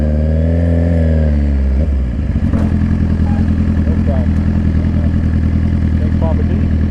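Dirt bike engine labouring up a hill, a close, steady, loud drone with a shifting pitch early on and a rough rhythmic chug that persists throughout, with voices faintly over it.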